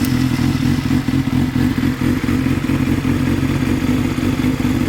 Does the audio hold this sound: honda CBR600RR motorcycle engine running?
yes